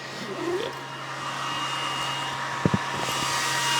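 A Sculpfun laser engraver runs inside its enclosure with a steady, muffled whir and hum close to the mic, broken by a couple of brief clicks near the end.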